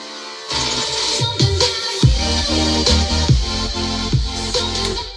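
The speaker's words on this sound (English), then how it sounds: "So it's just building with a cutoff filter here." Electronic dance remix build with a bright white-noise synth sweeping through a cutoff filter, over repeated punchy bass hits and chords, loud and close with no talking.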